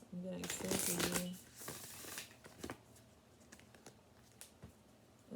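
Tarot cards are shuffled by hand in quick riffling bursts, crisp and close, with someone speaking softly between the shuffles.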